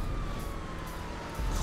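Fire and police car siren in a transforming-vehicle racing video game, a sustained slowly falling wail over constant engine rumble.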